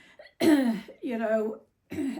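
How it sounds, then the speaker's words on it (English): A few throaty coughs or throat-clearing sounds in quick succession, close and fairly loud, with a voiced, speech-like quality. "excuse me, I'm coughing"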